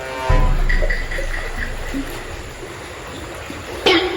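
A stream of flowing water gives a continuous rushing, trickling wash close by, with a brief louder splash or knock near the end and no talk.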